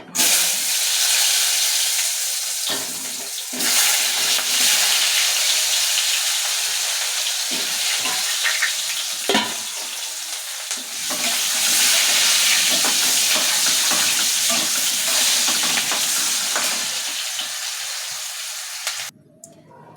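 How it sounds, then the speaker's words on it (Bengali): Potatoes fry in mustard oil in a home kitchen, giving a steady, loud sizzle and hiss that lasts throughout with no one speaking. "দিয়েছি আলুটা ভাজা।"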